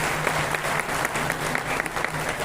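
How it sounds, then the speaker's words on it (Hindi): An audience claps loudly in honor of meritorious students at a community felicitation ceremony, a dense, even stream of many hands with individual claps popping out, steady and near, with a faint hum underneath. "इसे एक बार जोरदार ताली बजाकर उन बच्चों का सम्मान किया है।"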